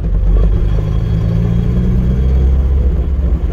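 MG Midget sports car engine running, a loud, close mechanical rumble with a clattering, uneven low throb that holds steady throughout with no talk over it.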